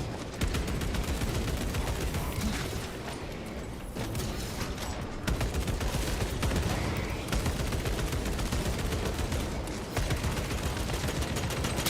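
Rapid automatic bolt rifle fire rattles almost nonstop through a video game firefight, dense bursts of loud shots with brief gaps and mechanical clatter, no voices.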